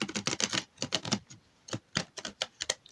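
Brisk card shuffling of an oracle deck, the first one ever bought and long unused: a quick run of crisp riffling clicks, a short pause, then several separate sharp snaps close by with no talking.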